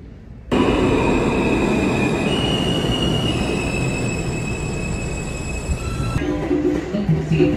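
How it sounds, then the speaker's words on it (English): A New York City train rolls in loudly, wheels squealing with a sustained high metallic screech over a rumbling roar that fades slightly as it slows. "Waiting for the train."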